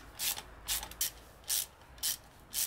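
Small nuts being threaded onto gearbox support studs beneath a car, heard as five short, crisp ratcheting bursts spaced evenly apart, close and fairly quiet with near silence between them.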